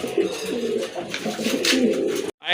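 Several pigeons coo continuously in low, rolling throaty calls, close by and fairly loud, before the sound cuts off abruptly near the end.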